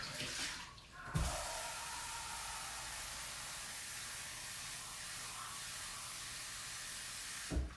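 Water runs from a sink tap in a strong, steady hissing rush after a brief clunk at the start, continuing evenly before a knock near the end.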